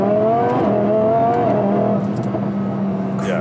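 A supercharged Audi R8 V10 on a track, revving toward an 8,500 RPM redline, its engine a loud continuous roar with climbing pitch that steadies, heard from inside the car with no talk over it.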